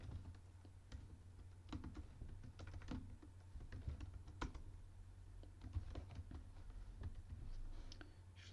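Code is typed on a computer keyboard in quick, uneven bursts of soft clicks over a low, steady hum, with no voice.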